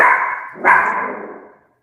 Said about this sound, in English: Yes, Roxy, she hears a dog.